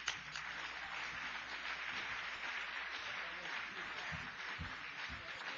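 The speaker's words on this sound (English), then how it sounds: "let's have a round of applause for Russ Dizdar" Audience applause for a speaker at a talk event, a steady broadband wash of clapping sustained for several seconds, moderately loud and even, with no voices over it.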